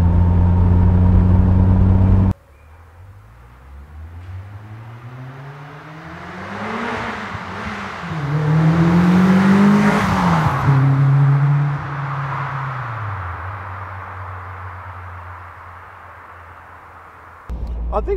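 A Caterham Super Seven 2000 sports car accelerates hard, its engine note climbing through the gears in rising sweeps before easing off. It sounds moderately loud, and there are no voices.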